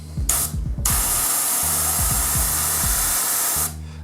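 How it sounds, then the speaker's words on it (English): An airbrush sprays paint in a sustained, close hiss after a short burst, onto a model, with a rhythmic motor pulsing underneath until it cuts off. "and I'll be spraying with my airbrush"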